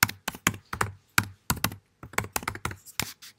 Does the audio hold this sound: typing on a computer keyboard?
yes